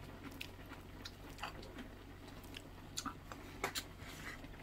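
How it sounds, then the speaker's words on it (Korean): Close, faint chewing and biting while eating a seafood pollack stew, with soft irregular mouth sounds and small crunches spread through a quiet room, and no talk. "나도 이제 좀 먹겠습니다."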